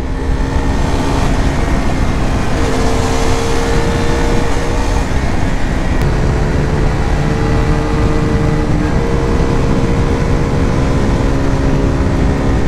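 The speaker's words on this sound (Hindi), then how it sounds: "RC 200 मैं अभी जो चला रहा हूँ ना बहुत बढ़िया" KTM RC 200 motorcycle engine droning steadily while riding on the road, loud and continuous with shifting tone as the rider works the revs, with wind noise and no talking.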